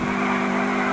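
A car engine drifts in the video game GTA IV, a loud, steady droning hum with sustained tonal pitch, heard alone for about a second.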